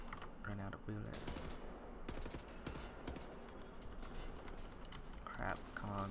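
Gunfire from the first-person shooter Wolfenstein: The New Order comes in rapid bursts and scattered shots, mixed with game effects and a voice talking over it.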